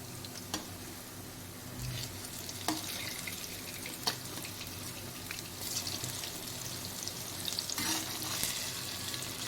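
Urad dal vadas, also called garelu, fry in hot oil with a continuous bubbling sizzle. Scattered clinks and scrapes from handling them break in now and then, with no voices.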